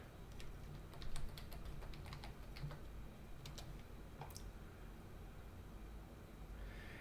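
Quiet, rapid clicking of keys on a computer keyboard, in short irregular runs with brief pauses, close by and with no talk.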